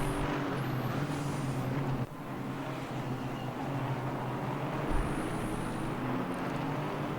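A Porsche GT4 race car engine under throttle on a Barcelona circuit in a sim race, a steady continuous drone that holds fairly even throughout, with no talk over it.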